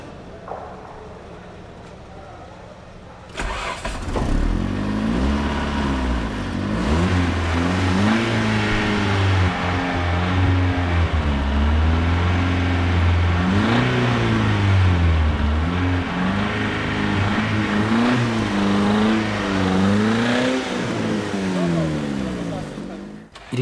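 A car engine cranks and fires after a quiet start, then revs repeatedly in loud, rising and falling surges that last to the end, with a voice faintly under it.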